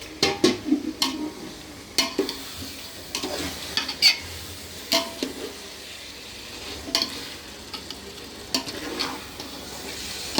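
Yogurt-marinated meat roasts with softened onions in a pan for biryani, making a steady sizzle punctuated by a rhythmic series of clanking stirs from a spoon against the pan.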